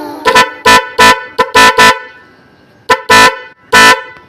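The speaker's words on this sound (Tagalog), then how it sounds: "Sa wakas, tapos ko na rin busina ko." A newly wired vehicle horn blares in loud short honks, five quick blasts in an uneven burst, then a pause and two more, each ringing sharply and alone.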